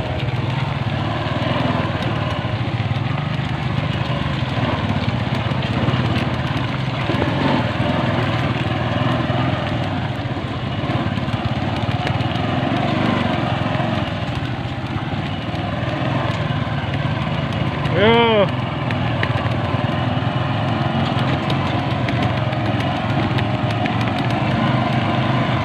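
A small motorcycle engine runs steadily and close by on a rural farm road, a continuous mid-pitched drone that holds for the whole stretch, with a brief rising whine near the end.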